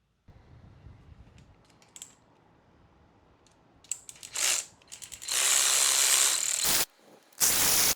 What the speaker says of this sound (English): We're going to loosen those bolts,